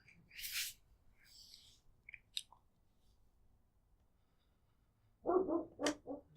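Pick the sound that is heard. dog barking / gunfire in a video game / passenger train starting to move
dog barking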